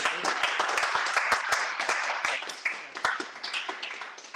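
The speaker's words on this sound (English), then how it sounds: "we all give Gilly a round of applause" An audience at a draft-night event claps, with crisp, irregular claps and a busy crowd wash tapering off toward the end, mixed with some murmuring and cheering.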